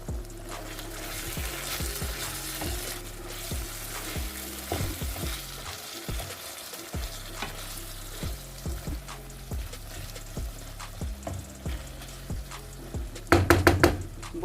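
Liver (kaleji) mixed with garam masala and stirred in a pan: rhythmic spatula scrapes and knocks against the metal over a continuous sizzle, close and without voices, with a burst of sharper clatter near the end.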